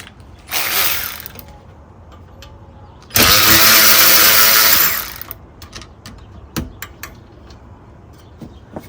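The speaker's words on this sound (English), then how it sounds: "So we're gonna take these bolts off." A ratchet wrench loosening bolts on a Jeep Cherokee XJ fan gives a short burst of rapid clicking, then a longer, louder run of quick ratcheting, followed by scattered metallic clinks from working under the hood.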